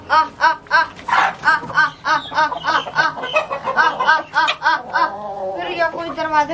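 Aseel hens on a farm in Pakistan cluck in a steady, rapid run of close, loud calls, their voices overlapping with occasional louder squawks throughout.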